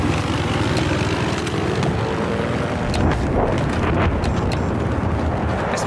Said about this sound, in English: I spotted a hostile jet.